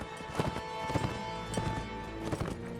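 Horse hooves clip-clop at a steady galloping rhythm in a medieval combat video game with lances, regular thuds over a constant background of game music and ambience.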